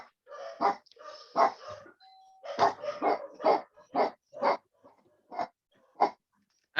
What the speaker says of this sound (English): Someone just rang the doorbell.